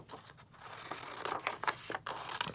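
Scissors cut through thin tracing paper used like vellum for a vintage ephemera craft, a short series of close, crisp snips and papery rasps, with no voices.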